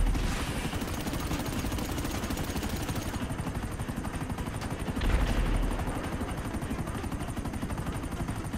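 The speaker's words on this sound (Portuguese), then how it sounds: "Eu não tô conseguindo atirar também no helicóptero" Helicopter in the video game Grand Theft Auto V Online, its rotor chopping loud and steady throughout at close range, with a brief low thud partway through.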